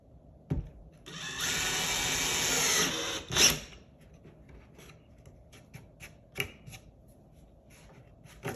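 A cordless drill/driver sinks a Phillips-head screw with no pilot hole, a steady whirring drive of about two seconds ending in a brief louder strain, followed by a few light clicks and taps.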